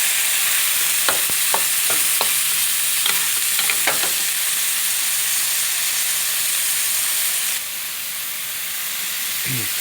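Minced pork frying in a pan with oyster sauce and a splash of water, a loud continuous sizzle and hiss with a few scraping stirs early on, easing slightly toward the end; no talk.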